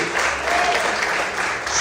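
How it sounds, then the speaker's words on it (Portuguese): A church congregation claps in brief, steady applause, filling the space with dense clapping for a couple of seconds. "Você pode aplaudir e glorificar o Senhor."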